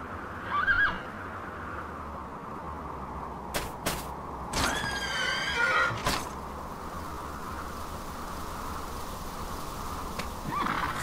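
Horse neighing in the video game Dragon Quest 8, a short whinny heard over steady game background ambience, with a few sharp clicks and knocks around it and no talk.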